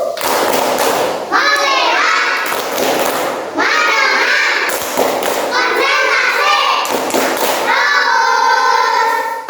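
A class of young children in an Indonesian classroom chants and claps in a group rhythm exercise, loud sharp claps and thumps falling in regular bursts between their sing-song voices.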